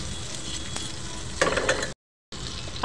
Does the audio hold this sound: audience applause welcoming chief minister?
no